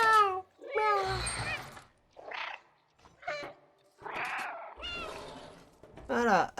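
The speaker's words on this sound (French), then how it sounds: "je miaule. Miaou, miaou." A cat meows repeatedly in the video game Stray, a series of short, close mewing calls separated by brief gaps, alternating with a voice speaking between them.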